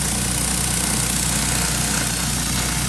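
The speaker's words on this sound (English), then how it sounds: "we can walk behind with the surface cleaner and pick it up a lot" Pressure washer surface cleaner running across a concrete pool deck, a loud, steady engine drone with a constant spraying hiss, continuous and close, no voices.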